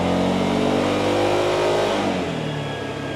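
A Yamaha Xmax 300 scooter engine revs loudly and close while warming up on a dyno, a steady high buzzing drone that eases slightly toward the end.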